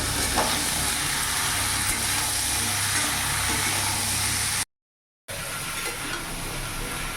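Mixed vegetables fry in a pan with a dense, constant sizzle that is close and loud. It cuts out briefly to silence and then resumes, with no speech over it.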